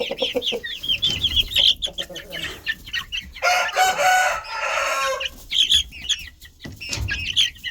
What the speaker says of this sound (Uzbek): O'zimdan chiqqan tovuqlar ham, xo'rozlar ham hali sortirovka bo'ladi